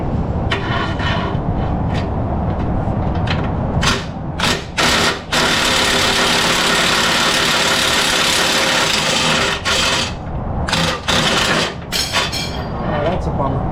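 A Chevy Tahoe engine runs with its transmission overfilled, giving a steady close idle rumble broken by several sharp knocks and clatters.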